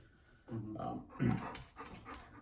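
Rocky the dog whining and whimpering close by in short uneven bursts, with one stronger vocal cry in the middle and breathy panting between.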